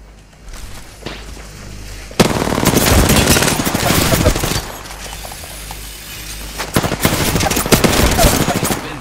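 Heavy gunfire in Apex Legends: loud bursts of automatic fire and impacts, with dense stretches of shooting broken by quieter gaps and a faint voice underneath.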